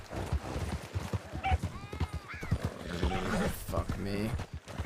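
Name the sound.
horse hooves and neighing in a role-play video game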